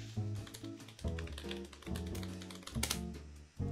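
Typing on a computer keyboard at a server login prompt, with dense rapid key clicks in short bursts over a steady tonal hum in the background.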